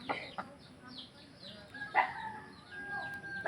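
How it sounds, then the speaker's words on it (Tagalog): Chickens cluck and call in short bursts, with a rooster-like cry near the middle, fairly close against faint background noise. "yung apat na maaamo kong manok, isa na lang natira"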